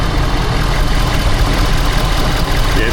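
A cold-started Ford F-Series 6.7 diesel engine idles with a steady, dense low rumble that holds constant and close throughout, with no speech over it.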